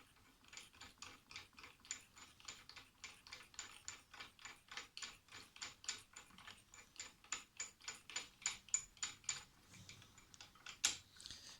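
A bolt is screwed into the underside of an Einhell TC-SS 405e scroll saw, giving a long, steady run of quiet, close ratcheting clicks and scrapes at a regular rhythm.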